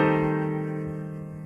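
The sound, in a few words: minor sixth chord in first inversion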